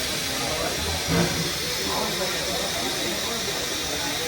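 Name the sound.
steam train hissing before boarding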